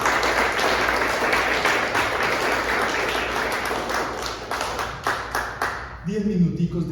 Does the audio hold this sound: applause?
yes